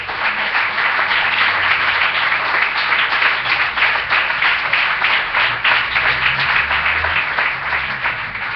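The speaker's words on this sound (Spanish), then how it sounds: "Denle un aplauso al Señor" A church congregation bursts into sustained, dense applause filling the room, steady and loud throughout with many hands clapping at once.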